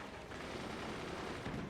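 Rapid, dense gunfire from the strategy video game Forts crackles steadily and quietly for under two seconds.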